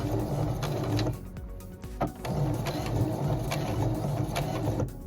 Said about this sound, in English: it actually just makes the sewing machine go in reverse